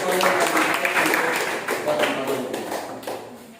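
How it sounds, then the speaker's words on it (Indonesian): Applause from students in a classroom, a steady dense patter of clapping hands lasting the whole moment, fairly close and even in loudness. "kita berikan aplaus"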